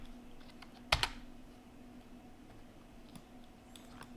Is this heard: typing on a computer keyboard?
yes